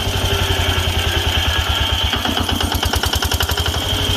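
A small Yanmar 16 hp diesel engine with two starting systems idles close by, a loud, steady rhythmic knocking chug with even pulses throughout.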